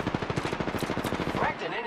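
Rapid automatic gunfire from an Apex Legends match, a dense run of loud, evenly spaced shots for nearly two seconds, with a brief voice-like tone near the end.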